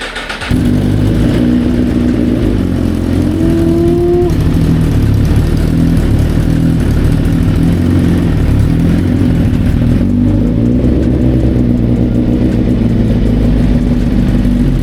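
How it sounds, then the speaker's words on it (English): Car engine cold start: the engine catches about half a second in and settles into a loud, steady, rough running idle that continues to the end, with no talking. "Let's get this cold start."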